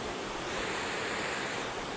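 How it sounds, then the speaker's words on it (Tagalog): River water flows steadily beside a riverside picnic, a soft continuous rushing hiss with no distinct splashes and no voices, fairly faint. "Yung literal na picnic sa ilog talaga."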